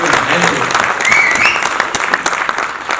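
A live comedy show audience claps loudly and steadily for about three seconds, dense close applause with a little crowd murmur beneath it.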